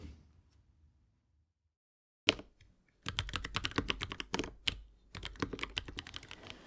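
Fingers type on a computer keyboard, quick clusters of clicking keystrokes after a quiet opening and a single sharp tap, close and fairly loud with brief pauses between bursts.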